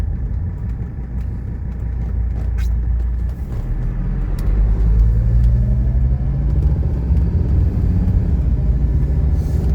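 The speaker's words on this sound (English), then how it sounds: "We'll let this car pass." A car passes on the road beside a 1984 Mercedes 300D, a loud close rumble of engine and road noise that swells and falls across about ten seconds.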